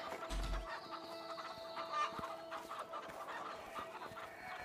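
A chicken clucks in the video game A Way Out, with short repeated clucks over a steady farmyard ambience and background game sound.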